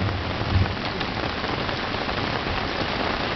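Heavy rain pours steadily onto surfaces during a wind storm on an island, a dense, loud, continuous hiss with no voices.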